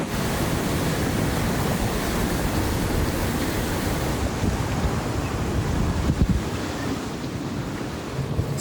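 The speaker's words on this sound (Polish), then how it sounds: "No wiatr coraz silniejszy." Strong, steady wind roars across the microphone while a sailboat heels under reefed sails, with water rushing and surf washing along the hull in a continuous broadband rumble and no talking.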